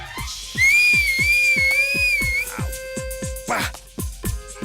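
A person whistles loudly in a sustained, wavering tone over a steady rhythmic thumping beat, heard in a Tamil TV serial scene with no one speaking.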